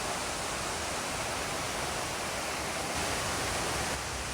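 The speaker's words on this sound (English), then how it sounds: "that's the falls there, and the drop under the bridge" Waterfall at Den Finella on Scotland's east coast, dropping beneath a bridge, a steady loud broadband rush of falling water with no pauses.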